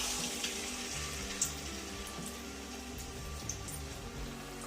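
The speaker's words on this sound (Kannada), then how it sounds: "ಇವಾಗ ನಾನು ಎಣ್ಣೆಗೆ ಬಿಡ್ಕೋತಾ ಇದ್ದೀನಿ." Maddur vada dough sliding into very hot oil and frying, a steady hiss and bubbling crackle with small pops, fairly close and continuous, with no voices.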